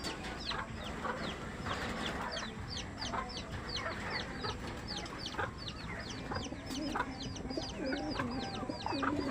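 Fighting roosters kept as gamefowl cluck and chirp in a busy yard, a steady mix of near and far short calls over a constant background hum, with no talk.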